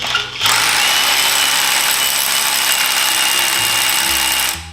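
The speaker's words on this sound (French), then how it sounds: "ce petit perfo chevillère Makita, c'est l'idéal pour le chevillage" Compact Makita rotary hammer drill boring a hole, a loud, close, continuous buzzing hammer rattle that starts sharply and runs steadily for about four seconds before winding down.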